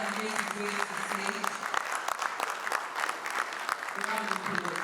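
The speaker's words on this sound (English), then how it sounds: "A round of applause that makes it great to say." Audience applause at the Polaris Bank VULTe unveiling ceremony: steady, dense clapping from a crowd filling the room throughout, with a voice speaking faintly over it.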